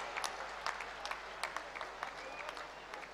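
Applause at an honour ceremony for India's Tokyo Olympic women's hockey players: a fairly faint, steady patter of clapping from a crowd, with sharper individual claps standing out.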